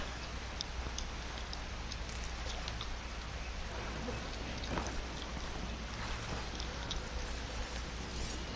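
Steady hiss of rain falling in a video game, a dense even wash with scattered faint ticks and drips running throughout.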